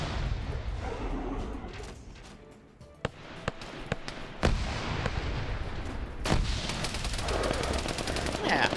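Dense gunfire rattles through a military video game, sharp single shots and bursts cracking over a constant roar of background battle noise, with several louder reports standing out near the middle and end.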